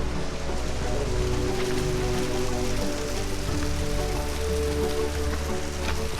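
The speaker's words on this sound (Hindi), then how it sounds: "थोड़ा बारिश का मौसम है ना, बारिश हुई है तो ये सब गीला हो रहा है" Steady rain falling on a wet mountain trek trail in the Himalayas, a constant dense patter with no pauses, close and fairly loud throughout.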